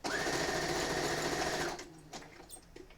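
A sewing machine hums at a steady high whir while stitching quilt rows together, then stops after about a second and a half, leaving faint handling clicks and rustle.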